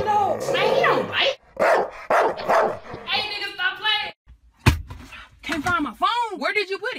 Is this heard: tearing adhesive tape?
no